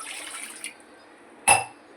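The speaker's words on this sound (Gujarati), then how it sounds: "સૌ પ્રથમ આપણે એક બાઉલમાં એક ગ્લાસ પાણી રેડી લઈશું" A short splash of a glass of water pouring into a bowl fades after a moment, then a single sharp clink of glass or metal.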